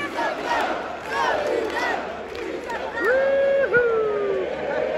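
Rapid football fans in a brand-new stadium before the match, a large crowd roaring and chanting in waves, with loud rising and falling yells cutting through the dense babble.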